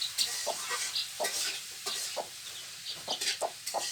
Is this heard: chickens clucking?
yes